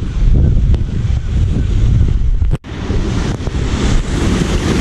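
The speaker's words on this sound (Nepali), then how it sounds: "खोला छ यस्तो" A mountain stream rushes steadily along a trail on the Nuwakot–Dhading border, its broadband roar loud and continuous, with a brief dropout midway before the flow resumes.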